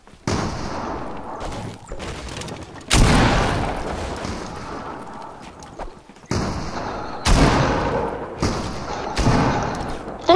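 Pump shotgun gunfire in Fortnite, a handful of sharp, loud blasts spaced unevenly, each trailing off, with voices talking in between.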